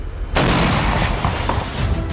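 A car packed with explosives is destroyed in one sudden, loud blast, followed by a rolling rumble and a few scattered pops and cracks as debris settles.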